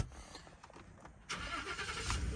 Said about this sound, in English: the truck cranks right up